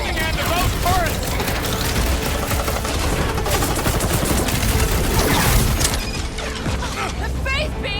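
Video game gunfire from weapons and heavy turrets, a dense continuous barrage of rapid shots and mechanical clatter with booms, loud throughout, mixed with game effects and music.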